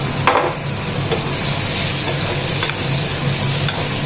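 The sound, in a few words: spices sautéing and being stirred in a pan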